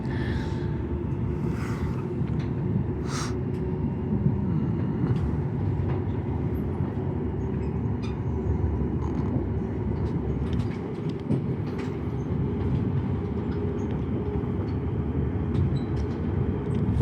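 A Siemens suburban train runs on Melbourne's Sunbury line, heard from inside the carriage as a loud steady rumble with rhythmic track clatter and a few sharp squeaks and clicks near the start.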